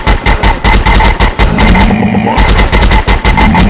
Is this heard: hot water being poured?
no